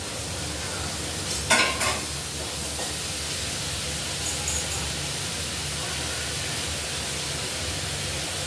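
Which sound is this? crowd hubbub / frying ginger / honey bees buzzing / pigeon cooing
frying ginger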